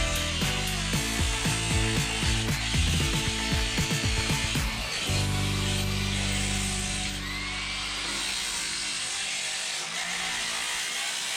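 A power tool grinds rust off metal during a rust repair before fiberglass work, a steady, loud, continuous whir with changing mechanical tones and no talking.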